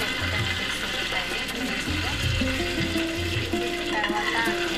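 Mustard seeds, green chilies and curry leaves crackle and sizzle in hot oil in a home kitchen for Telugu pappu, a steady frying hiss with a few low clatters and faint tonal background sounds.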